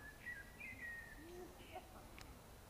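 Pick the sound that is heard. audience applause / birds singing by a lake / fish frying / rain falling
birds singing by a lake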